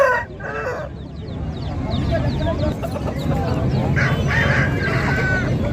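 Aseel fighting roosters crowing and clucking at a busy Saturday rooster market in Mydukur, several birds calling at once, some near and others farther off, over steady crowd noise and chatter throughout.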